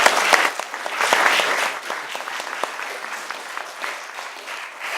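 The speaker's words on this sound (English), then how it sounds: "I think we should give our round of applause to our panelists." A roundtable audience applauds its panelists with close, crisp clapping that swells loud at first and then thins into scattered claps.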